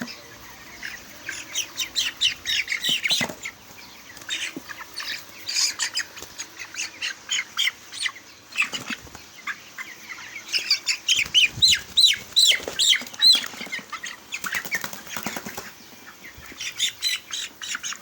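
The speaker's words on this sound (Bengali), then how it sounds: "দেখেন আমি 5টা মুরগি ধরতেছি।" Broiler chickens squawk and chirp loudly in dense, overlapping bursts as they are caught by hand, with harsh broadband flurries that may be wing-flapping, continuing steadily through the whole stretch.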